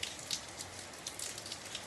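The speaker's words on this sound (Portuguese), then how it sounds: "E tá chovendo mais, João. Tá chovendo mais." Steady rain falls in Itambaracá in northern Paraná, Brazil, as a faint, continuous patter with scattered soft drop ticks and no voices.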